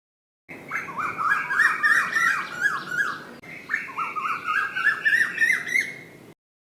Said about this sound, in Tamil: குயில்